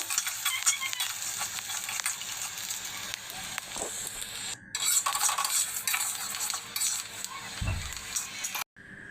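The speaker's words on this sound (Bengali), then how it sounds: "তো কিছুক্ষণ ধরে ধরে আমি এগুলো নেড়ে নিচ্ছি যাতে নিষ্ঠা যাতে না পুড়ে যায় যতক্ষণ চালগুলো ভাজা না হবে ততক্ষণ ভেজে নিতে হবে" Washed rice grains being dry-roasted in a pan are stirred continuously, making soft repeated scraping and rustling with faint crackle. A few short breaks interrupt the steady stirring.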